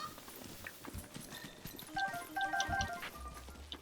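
A horse's hooves clip-clop in Zelda Breath of the Wild, scattered soft thuds in an uneven walking rhythm, with chiming game tones and light ambience around them.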